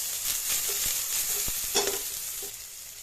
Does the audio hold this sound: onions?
yes